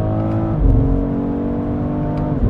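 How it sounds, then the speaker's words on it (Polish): A BMW X3 M Competition engine revs up hard under acceleration, loud and close, with a rising, sustained roar and no talk over it. "Zobaczcie, jak nacisnę gaz."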